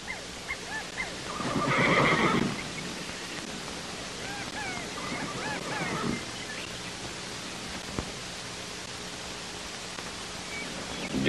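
Horses give a loud, shrill neigh about two seconds in, then the scene settles into a quiet, noisy background with faint stirring and no talk.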